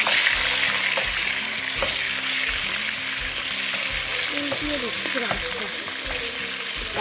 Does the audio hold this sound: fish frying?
yes